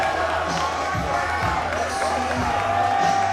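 A fight event crowd on its feet, cheering and shouting in a loud, continuous roar that fills the arena, with voices rising and falling throughout.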